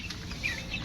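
Chickens clucking close by on a farm: a brief, soft burst of fowl sounds lasting under a second, alone with no talk.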